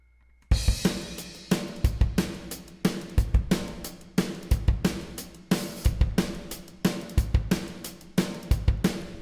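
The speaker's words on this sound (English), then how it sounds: "Now we'll throw some room reverb on." Pop punk drum groove from Superior Drummer MIDI, with distortion, raised overheads and a dark chamber room reverb, plays alone: steady loud kick and snare hits with bright cymbals, each hit trailing into a dense, dark reverb tail.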